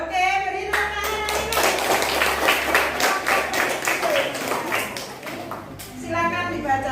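A classroom of students claps together in a lively burst of quick, slightly uneven hand claps lasting several seconds, with voices talking briefly before and after it.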